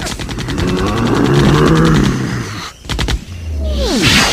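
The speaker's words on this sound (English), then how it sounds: "They're using heavy artillery!" Heavy artillery and rapid gunfire from a cartoon sound effects record: loud repeated bursts and blasts, a short gap, then a falling whoosh and more rumbling fire.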